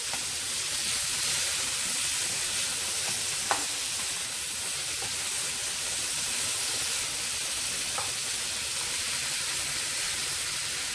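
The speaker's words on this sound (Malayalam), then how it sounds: "തക്കാളി പീസായി ഒന്നും കിടക്കരുത്. നന്നായിട്ട് വഴറ്റി ഒരു പേസ്റ്റ് പരുവത്തിലാവണം. അതുവരെ നമുക്കിതിനെ വഴറ്റി കൊടുക്കാം." Chopped tomatoes sizzling and being stirred in a pan as they cook down to a paste for tomato rice; a steady frying hiss with a couple of faint utensil scrapes, no voices.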